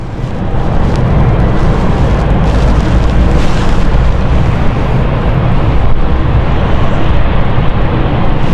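A jet on the Dublin flight taxis in at London City airport with a loud, steady engine roar and rumble, mixed with wind buffeting across the microphone throughout.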